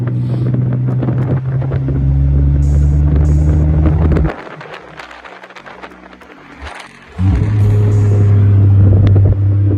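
A car engine drones steadily under driving load with wind and road noise, dropping abruptly to a quieter idle-like hum for about three seconds when the throttle is released, then surging back strongly.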